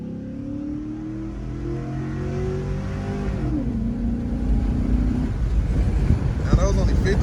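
A tuned 2002 Yukon 4WD with 4.11 gears, K&N intake, 20-inch rims and 35-inch tires accelerates at full throttle, its engine note climbing and shifting while wind noise grows and people talk inside.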